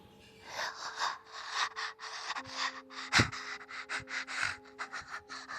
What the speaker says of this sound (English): Then I heard breathing right next to my bed. Slow, raspy.